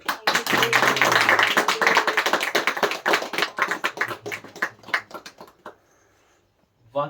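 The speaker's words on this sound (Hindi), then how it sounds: "ताली बजा के परमेश्वर का धन्यवाद करें।" Church audience in a village in Madhya Pradesh clapping hands in thanksgiving: dense, close applause with rhythmic claps that thin into scattered slaps and fade to quiet, ending with a brief burst.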